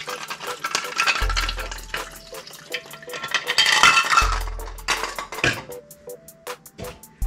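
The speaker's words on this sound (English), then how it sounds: "Stir in that vodka." A spoon stirs vodka over ice in a glass, with rhythmic clinks and the rattle of ice cubes against the sides, close and fairly loud, swirling liquid underneath and a few low thuds.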